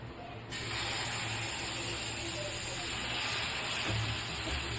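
Uthappam dosa batter poured onto a hot oiled tawa sets off a sudden broad hiss after a quiet half-second, then a loud, steady sizzle that continues without pause.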